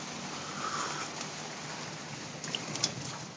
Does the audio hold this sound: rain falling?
yes